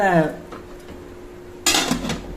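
Metal idli steamer pot being set down and covered with its lid while steaming ragi kozhukattai, close clanks and a sharp lid clatter, with a voice speaking at the start.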